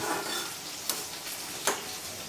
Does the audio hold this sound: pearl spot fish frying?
yes